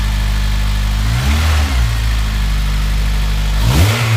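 A Honda Civic Type R EP3 fitted with an AEM induction kit revs up twice over a steady idle, each throttle blip rising and falling in pitch, loud and close with no talking.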